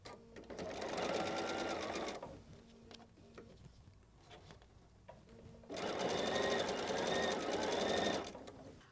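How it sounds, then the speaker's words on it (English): A sewing machine stitches folded fabric for a patchwork bow in two close, busy bursts of rapid whirring and clatter, separated by a quieter pause with faint handling sounds. "I'm just going to sew. Still no pins."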